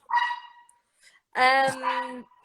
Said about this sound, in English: I have three annoying dogs here